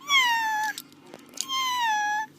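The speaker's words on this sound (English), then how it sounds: "Cat." A cat gives two clear, drawn-out meows separated by a short pause, close and distinct.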